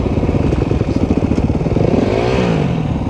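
A motorcycle engine revs and climbs in pitch during a riding lesson, with a steady loud engine drone and a rising whine near the end as the learner shifts up.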